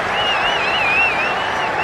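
Cricket crowd at Perth applauding steadily, a dense continuous wash of clapping at moderate distance with a whistle-like tone wavering over it, no talk.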